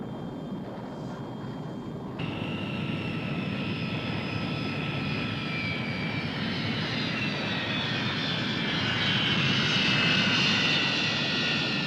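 Jet airliner on final approach to land, from a 1976 TV movie: a steady loud engine roar with high whining tones that swells slightly toward the end, without talk.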